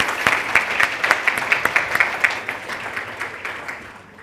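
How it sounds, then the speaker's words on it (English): Audience at an aquatic industry summit clapping, a brisk patter of many hands that peaks early and then gradually tapers off. "Again, a round of applause."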